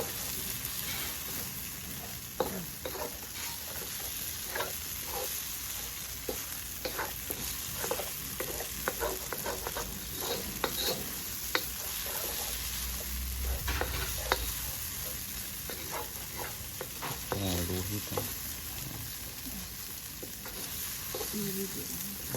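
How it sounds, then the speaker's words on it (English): Curry powder stir-fried in a pan for a prata dish, with steady sizzling and repeated metal scraping strokes against the pan, close and continuous. "I'm stir frying, but I'm also scraping at the same time"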